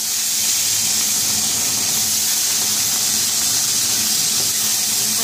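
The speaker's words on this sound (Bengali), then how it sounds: "এবারে মাছগুলোকে আমি ভেজে নেব।" Pomfret fish fry in hot oil in a wok, producing a loud, dense, even hiss of bubbling oil that stays constant throughout, close up and with no voices.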